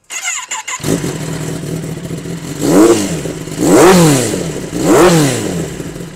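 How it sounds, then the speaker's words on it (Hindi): A sport motorcycle fitted with an aftermarket slip-on exhaust, shown alongside a Suzuki Hayabusa and Kawasaki Ninja ZX10R, fires up abruptly, settles into a loud close idle, then gets three sharp throttle blips that rise and fall. "इसमें काफ़ी सूदिंग एग्जॉस्ट लगा हुआ है जो कि एक्सिल का है। ऑन करके दिखा देता हूँ।"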